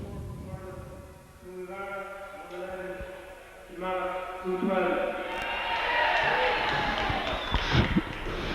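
A crowd at a Munster Senior Hurling match cheers Kilmallock's win over Tumivara, a swelling roar of voices that builds and stays loud, under a commentator talking throughout.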